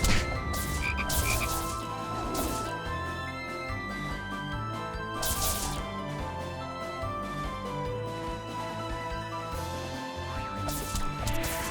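Frogs croak in a corner of a level in the video game Touhou Koukishin, a dense, steady chorus of repeated croaks layered over a busy background of game sounds.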